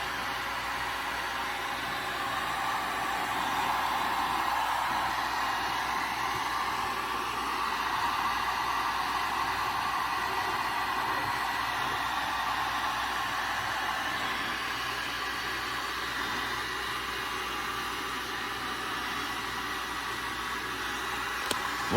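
Electric heater or heat gun blowing hot air onto a lawn equipment tire, a steady broadband rushing hiss that runs unbroken and fairly loud throughout.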